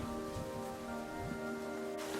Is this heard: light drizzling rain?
yes